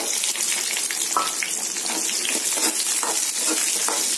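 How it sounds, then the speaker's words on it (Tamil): Small shallots frying in a pan with lightly browned urad dal for a veld grape chutney, giving a dense, continuous close sizzle and crackle with faint stirring scrapes throughout. "இப்போ இதில் சின்ன வெங்காயம் ஆட் பண்ணிக்கலாம்."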